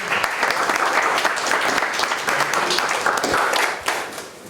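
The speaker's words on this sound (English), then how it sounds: "Let's give them a round of applause for coming." An audience at a startup meetup applauds loudly with dense, continuous clapping that tapers off toward the end.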